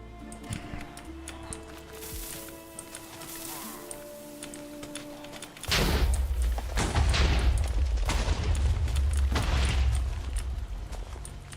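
A large Minecraft detonation erupts after a quieter stretch of game sounds, bursting into a loud, deep rumbling boom with crackling blasts that rolls on for several seconds before easing off.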